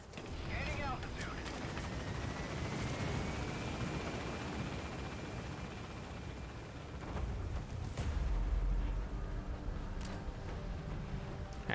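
A helicopter lifts off and departs in the video game Metal Gear Solid V, its deep rotor and engine roar holding steady and loud throughout, swelling slightly near the end under other game effects.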